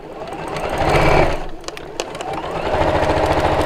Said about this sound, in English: line up the two raw edges, and sew down there